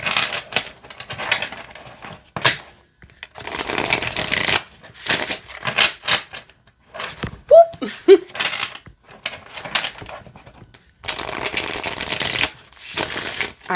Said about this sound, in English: I'll show you how it shuffles.